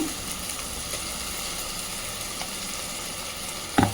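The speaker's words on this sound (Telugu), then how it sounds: "అల్లం వెల్లుల్లి పేస్ట్ వేగి మంచి వాసన వస్తుంది" Ginger garlic paste fries in a pan for a mutton bone soup, a steady even sizzle and hiss up close, ending with a short sharp clatter, no talking.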